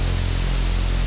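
Unfiltered noise oscillator on a single voice in the Sylenth1 software synthesizer, a steady, loud broadband hiss with a faint low hum underneath, sustained evenly without change or any talking.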